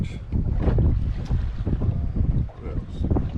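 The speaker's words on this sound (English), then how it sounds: "It's windy." Gusty wind buffets the microphone on a boat out on Lake Palestine, a loud, continuous rumbling roar with uneven surges and a brief lull.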